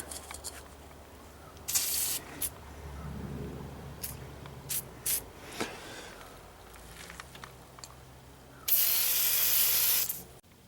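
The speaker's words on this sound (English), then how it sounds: "we were using this PB blaster, sprayed some on a week ago. Gonna spray some more on here." Short bursts of PB Blaster penetrating oil sprayed from an aerosol can onto a lower ball joint of a 2003 GMC Sierra or Chevrolet Silverado, several quick hisses and one longer spray near the end, with faint workshop clatter between.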